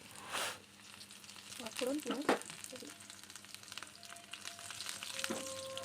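Onion, panch phoron five-spice and dry red chilies hit hot oil as a tempering for boiled dal, bursting into a loud sizzle that settles into a steady close crackle with a faint voice-like murmur in the background.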